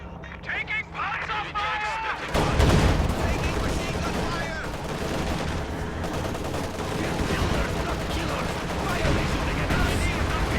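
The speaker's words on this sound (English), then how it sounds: "Incendiary artillery falls perfectly on the 2" An incendiary artillery barrage lands in a video game match, with Panther, KV-8 and MG-34 units in play. Dense, continuous crackling gunfire and blasts run the whole time, and a tournament commentator talks excitedly over them.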